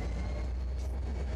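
The El Regiomontano passenger train running on rails, heard from inside as a steady low rumble and rolling drone, brief and continuous with no talking.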